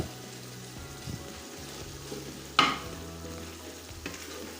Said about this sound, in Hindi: इसमें मैं चिकन शामिल करने लगा हूँ ताकि अच्छी तरह से फ्राई हो जाए